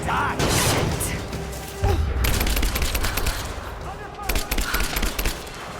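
Sustained automatic AK rifle fire in Rise of the Tomb Raider: rapid cracking bursts with thuds and booms mixed in, loud and dense, with a voice talking underneath at times.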